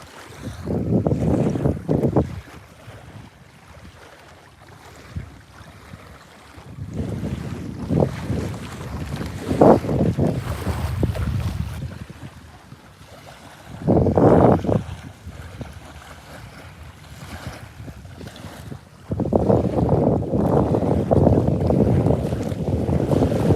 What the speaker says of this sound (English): it's kind of windy over here